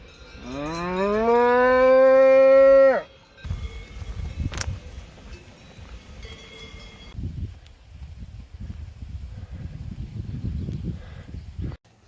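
A cow on an alpine pasture along the Tour du Mont Blanc gives one long, loud, close moo lasting about three seconds, followed by wind, rustling and faint distant sounds.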